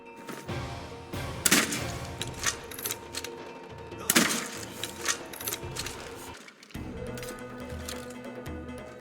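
Sharp gunshot-like bangs and cracks of explosions and crossbow shots go off repeatedly amid busy combat noise in modded Skyrim, with one heavy blast and fainter shots between.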